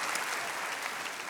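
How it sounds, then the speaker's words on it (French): An audience claps in a steady, dense burst of applause at a live comedy show, filling the whole short moment on its own. "Ah ben oui, il faut applaudir, hein,"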